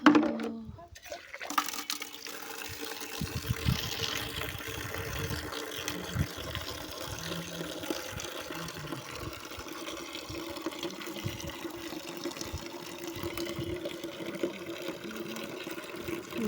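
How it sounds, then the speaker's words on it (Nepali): Water runs steadily into a container for a long stretch, a continuous splashing pour with a faint background murmur. "भाडामा पानी थापेर लानु पर्यो।"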